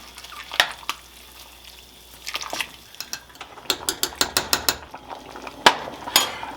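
A spoon scrapes and clinks against a soup pot while chopped baby spinach is stirred into Italian wedding soup, with light irregular metallic taps that quicken toward the end, close and alone.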